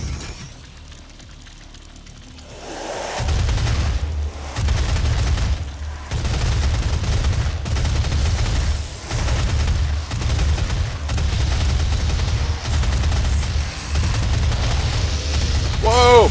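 Minigun fire in the Doom video game: after a quiet start, sustained loud bursts of rapid gunfire run for most of the stretch, dense and continuous with brief gaps, game effects dominating over the soundtrack.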